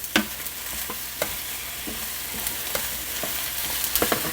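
Chicken and eggplant stir-frying in oil in a pan, with a soft, steady sizzle broken by sharp scrapes and clacks as the utensil moves the food around at irregular intervals.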